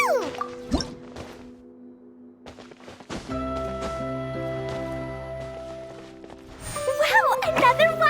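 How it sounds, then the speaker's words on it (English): Water drips from a wall in a puzzle video game, giving short, clear plinks over a soft sustained tone, with a brighter burst of chiming near the end. "another water droplet just came out from the wall!"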